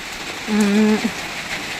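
Rain falls outdoors in a garden during a vlog about fertilizing trees, a soft steady patter throughout, briefly overlaid midway by a short tonal hum.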